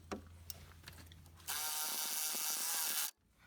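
A power tool buzzes steadily for about a second and a half while bolts are tightened on a 2001-2007 Dodge Grand Caravan CV axle, after a few faint metallic clicks, then stops abruptly.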